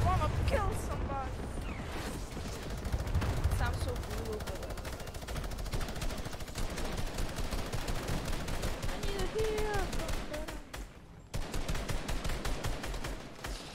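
Fortnite gunfire during team rumble play: rapid bursts of automatic shots crackle over a constant busy game mix, with several voices talking underneath and over the shooting.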